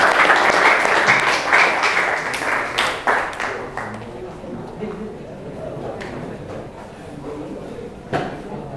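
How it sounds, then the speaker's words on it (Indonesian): A classroom group at a vocational school in Jember gets a round of applause, with dense, lively clapping for about four seconds that thins into a few scattered claps and quiet room noise. "Beri aplaus untuk kelompok."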